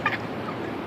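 A stuck wild bird gives a turkey-like gobble, a short loud burst of rapid notes at the start, then quieter background.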